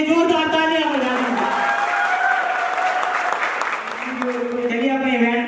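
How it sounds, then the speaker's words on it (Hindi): A crowd at a pre-launch event applauds loudly and steadily, with a voice speaking over the clapping throughout. "एक बार अपने लिए जोरदार तालियां बजाएं।"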